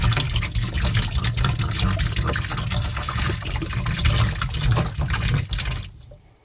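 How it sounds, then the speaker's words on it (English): Hydrogen peroxide dumped from a 32-ounce bottle into a boat livewell, giving a steady gurgling, splashing pour that runs loud and continuous for about five seconds before tapering off. "I'm using 32 ounces of hydrogen peroxide. And we're just gonna dump that in."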